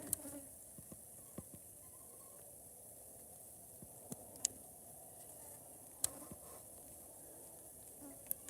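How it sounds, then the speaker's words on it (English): Mosquitoes and other small insects buzz around night lights in New Brunswick, a thin steady high whine with scattered faint ticks and taps as bugs strike the light, no voices. "There are a lot of mosquitoes tonight."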